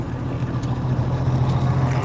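Low, steady diesel drone of a heavy semi truck loaded past 80,000 pounds, rolling at about 40 mph with its engine brake failing to engage, a continuous rumble with no talk.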